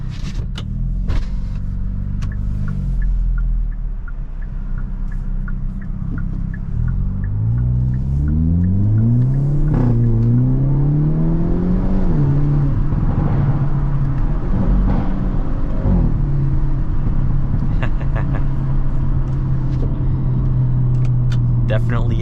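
A 2023 Hyundai Elantra N in N mode revs loudly and up close, its engine note climbing and falling in repeated sweeps before settling into a steady drone, with a voice talking over it.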